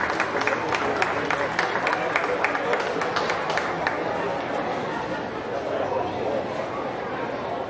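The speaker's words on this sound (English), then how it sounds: "Just give these kids a round of applause." Audience at a county fair sheep show gives a short burst of clapping that fades after a few seconds into crowd chatter and background babble, with people talking throughout.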